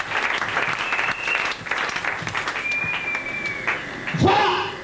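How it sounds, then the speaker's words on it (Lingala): An audience applauds students at a prosperity and financial education seminar, with steady clapping through the whole stretch, a whistle-like tone over it and a loud cheer near the end. "Acclamez très fort les élèves."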